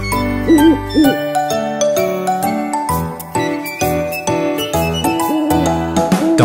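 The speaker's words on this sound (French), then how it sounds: "Dans un chêne vivait un vieux hibou." Cheerful French nursery song about a wise old owl living in an oak, carried by tinkling chime notes, steady bass and a wavering hoot-like melody, loud and busy throughout with no talking.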